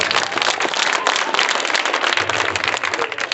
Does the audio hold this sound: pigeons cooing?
no